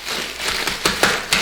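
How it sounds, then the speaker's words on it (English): Freeze-dried yogurt toppings for white chocolate cake pops being crushed, a soft crinkly crunch with a few sharper cracks over about a second and a half. "I'm gonna be crushing my toppings that I'll be putting on the white chocolate"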